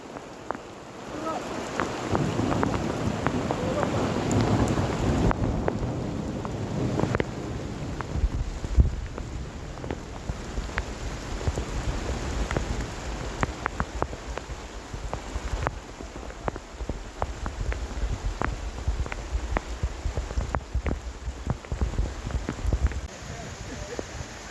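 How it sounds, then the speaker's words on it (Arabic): Rain falls steadily in the Ansa Tighdouine area near Marrakech, Morocco, with drops pattering on surfaces nearby and heavier rain in the first few seconds. Occasional low rumbles may be thunder, and voices are heard now and then. "أمطار الخير يا سلام"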